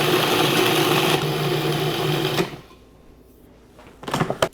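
A food processor pulses vanilla protein powder, chia seeds and cinnamon for no-bake energy bites: a loud, steady motor whir runs for about two seconds and cuts off, then a brief quiet and a short final burst.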